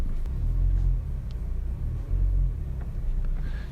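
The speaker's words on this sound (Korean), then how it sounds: "그 다음 핸들 돌려주시면서 다시 후진." Car reversing slowly into a diagonal parking space, heard from inside as a steady low engine rumble and road hum that dips briefly and resumes, with no talking.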